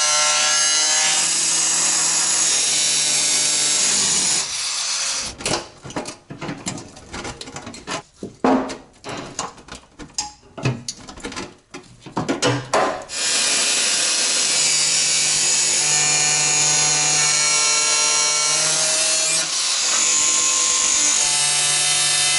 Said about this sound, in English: Let's get the grinder out.